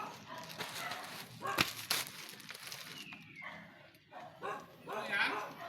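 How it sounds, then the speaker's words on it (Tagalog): Several dogs barking and yipping at a house in a mountainous area, fairly close and repeated, mixed with a person's voice and some footsteps. "Daming aso."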